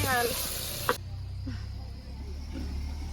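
Chicken frying in oil with crushed ginger and garlic gives a steady low sizzle, with one sharp clatter near the start. Someone speaks over the sizzle.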